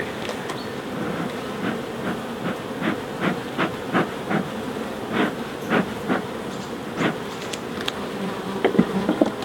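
Honeybees buzz steadily in an opened hive thick with red propolis, a dense close drone with repeated sharper swells as individual bees fly near, continuing throughout with no voices.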